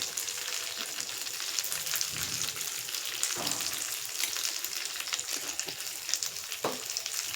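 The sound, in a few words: spices roasting in a pan for cucumber tomato chutney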